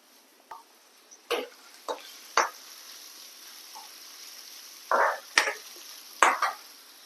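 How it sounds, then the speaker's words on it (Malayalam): Onions and curry leaves frying in a pan for a fish curry, a faint low sizzle punctuated by sparse sharp scrapes and clicks of stirring, close and quiet with no talking. "ഉള്ളിപ്പോ ഇവിടെ നന്നായി മൂത്ത് വരുന്നുണ്ട്"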